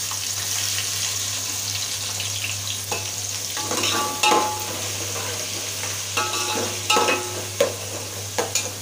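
Finely chopped onion frying in a pan for a stuffed crab dish, a continuous close sizzle over a low steady hum, punctuated by clattering stirs that grow more frequent toward the end.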